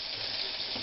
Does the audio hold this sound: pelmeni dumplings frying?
yes